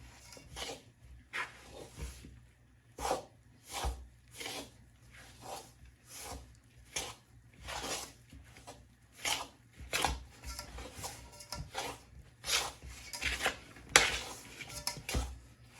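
Repeated scraping and clinking of a spoon against a bowl of soft dough, a series of quiet rhythmic strokes at close range.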